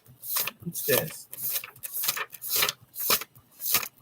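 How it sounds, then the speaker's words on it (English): Dry papery rustles come in quick bursts, like pages being flipped one after another, close and fairly loud. "You hear the page turning?"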